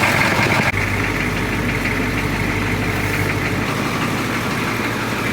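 A 1982 Chevrolet K5 Blazer diesel engine idles while warming up, a loud, steady rumble with a knocking clatter that stays close and constant throughout, with no voices.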